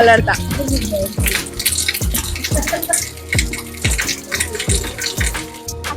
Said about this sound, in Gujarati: અહીંયા પુલ ઉપર પાણી આવી ગયું છે